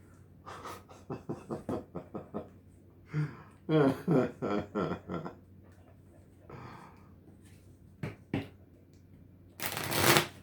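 A deck of Goddess Guidance Oracle cards shuffled close by in a quiet room, with bursts of riffling and flapping card sounds in several runs, separated by short pauses.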